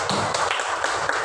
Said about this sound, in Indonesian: Oke, tepuk tangan untuk Ulfa.